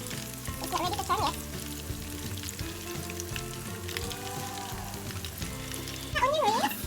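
Onion rings fry in hot oil with a steady, close crackling sizzle, and background music and a speaking voice run through it.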